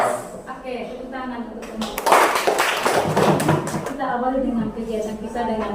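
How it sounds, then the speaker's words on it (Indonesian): Children at an Indonesian school performing a rhythmic clapping chant (Tepuk PPK): chanting young voices with a loud flurry of claps in the middle, tapering into more chanting. "Silakan yang Tepuk PPK religius nasionalis"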